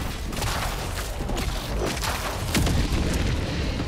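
A Hellbomb detonates in Helldivers 2 during a fight against Terminids, a loud, sustained rumbling blast with deep booming low end and layered crackling debris, continuous throughout with no talking.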